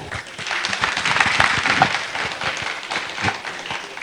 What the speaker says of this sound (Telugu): సో ఒక్కసారి గట్టిగా చప్పట్లు.